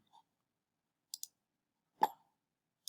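Mouse clicks in the Unity editor: a handful of isolated, crisp, close clicks spaced apart over near silence, with no talk.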